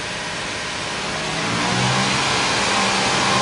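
Car engine revving up to about 3,000 rpm during an OBDII diagnostic check, a loud, close, steady rising roar with no talk over it.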